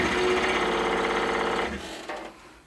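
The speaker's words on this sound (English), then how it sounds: "just run your saw for a second or two to straighten out that hole" A scroll saw running briefly in wood to straighten out a hole, a loud steady buzzing reciprocation that winds down and stops near the end.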